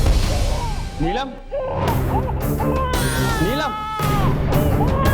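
A baby cries in rising and falling wails, repeated several times, while a voice speaks briefly nearby.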